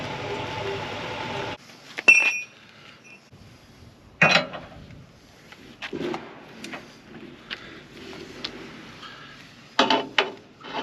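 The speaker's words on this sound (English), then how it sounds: "I'm going to ratchet strap on this" A ratchet strap is cranked tight in a workshop during body repair: several short, sharp ratcheting bursts separated by quiet gaps, after an opening stretch of steady mechanical hum.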